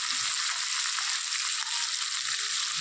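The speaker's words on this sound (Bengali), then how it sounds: "এখানে একটু হালকা করে ভেজে নেব" Small fish lightly fry in hot oil with a steady, close, high sizzle that hisses without a break for a few seconds, with no voices.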